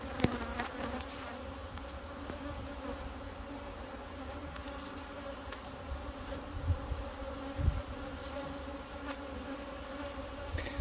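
Honeybees at a hive during introduction of a new queen in September, a steady dense buzzing drone throughout, close and continuous with no talking.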